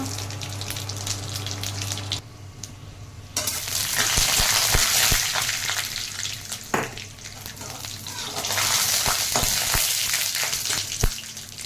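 Bay leaf, peanuts and dried chillies frying in hot oil with cumin seeds, a loud steady sizzle with scattered crackles and stirring clatters, no voices over it.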